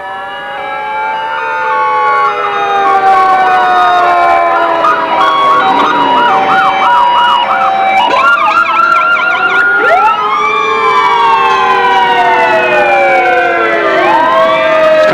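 Fire apparatus sirens wail continuously during a volunteer firemen's convention parade in Dauphin County in 1989, several overlapping rising and falling siren tones from passing trucks, loud and sustained throughout with no talk.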